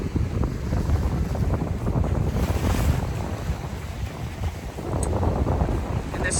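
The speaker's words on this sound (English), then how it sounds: "Again, windy." Steady, blustery wind roars across the microphone by the sea in Key West, Florida, on a morning just after rain, with a dense, continuous rush that swells and eases slightly throughout.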